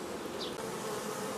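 Honey bees buzzing in front of hive entrances at an apiary, a dense, steady drone filling the air without a break, no voices.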